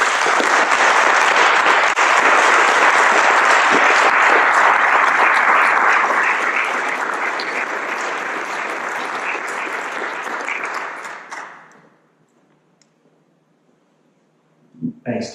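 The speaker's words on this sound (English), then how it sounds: "Ladies and gentlemen, one more round of applause for this gentleman." A conference audience applauds in a dense, sustained round of clapping that holds for several seconds, then thins and dies away into near silence, followed by brief faint sounds at the end.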